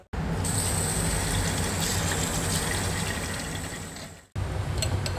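Boiled enoki mushrooms being drained: a loud, continuous gush of pouring water that fades and cuts off briefly, then rushes again at full strength.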